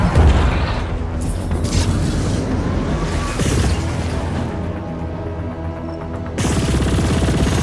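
Rapid machine gun fire in a space combat game crackles in dense, loud bursts layered with booming impacts, pausing briefly near the end before resuming.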